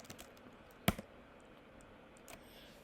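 Typing on a computer keyboard, a few scattered light taps with one sharp louder keystroke cluster near the start and a faint click later, alone at low level.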